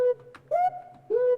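A Roland XV5080 house drum kit tone plays three short, bright pitched stabs with two keys pressed together, the middle hit held longer, over a faint low hum.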